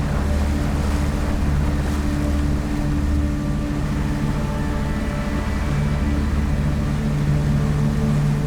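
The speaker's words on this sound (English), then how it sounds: "The wind hasn't really died down" Steady wind blowing over choppy lake water beside a boat in the Canadian wilderness, a constant loud rumbling roar with wave wash and microphone buffeting, no voices.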